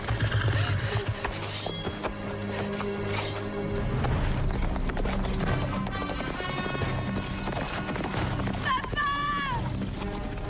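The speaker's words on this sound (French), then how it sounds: "Le cheval de Fane" Horse hooves clip-clop in a French-dubbed fantasy adventure series scene, steady and rhythmic beneath a loud, dense music score with a horse whinnying near the end; people speak over it.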